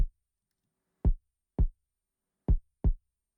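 Deep, punchy kick drum sample from a trap sample pack, five isolated thumps with short decays, played alone at an uneven rhythm with silence between hits.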